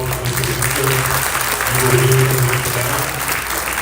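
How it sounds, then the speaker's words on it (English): A school orientation audience gives a big round of applause for an assistant principal: dense, sustained clapping from a crowded room, steady and loud throughout. "so a big round of applause for Mr. Minster"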